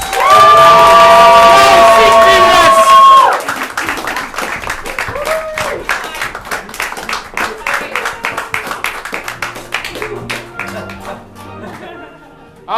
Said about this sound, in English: A big round of applause for our marathoners